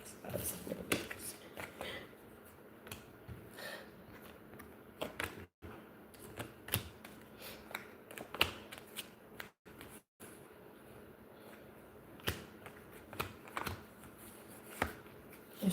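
Decks of playing cards handled and shuffled, a long run of soft irregular riffles, flicks and taps close by with brief pauses.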